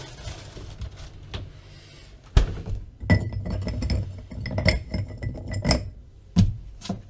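Ice cubes dropped into a glass while mixing a Dill Pickle Caesar cocktail, giving a series of sharp, close clinks and knocks at irregular intervals, with no talk.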